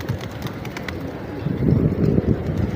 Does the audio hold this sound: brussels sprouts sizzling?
no